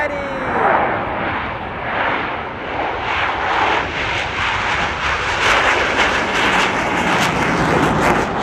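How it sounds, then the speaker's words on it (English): A CF-18 Hornet fighter jet roars loud and sustained during its takeoff at the Gatineau-Ottawa airshow, a broad jet-engine rumble filling the whole stretch. "Les voici, le CF-18 au décollage."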